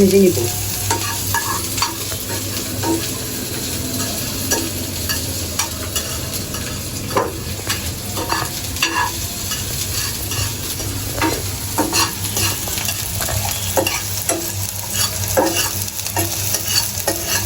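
Oil sizzles continuously as a spatula stirs and scrapes through chopped onions and green chillies frying, with a low hum underneath and no talking.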